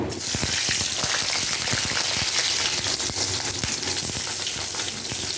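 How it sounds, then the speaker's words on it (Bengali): Eggplant slices fry in hot oil, a dense, loud, continuous crackling sizzle with rapid popping spatters running unbroken from start to finish. "এবার বেগুনগুলো ভেজে নেব।"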